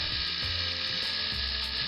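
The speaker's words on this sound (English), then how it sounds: "And here we're just testing the motor. Running it up." A Lima class 47 model locomotive's electric motor runs steadily after servicing, a continuous high whirring buzz that stays level and close throughout with no talk.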